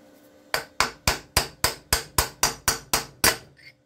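Ten sharp metal hammer blows, evenly spaced and loud, knock a part out of a snow blower mule drive pulley for a Case Ingersoll tractor, ringing briefly with no talk.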